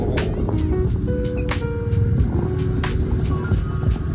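A car engine rumbles steadily up close, with intermittent clicks and faint tonal whines over the running motor.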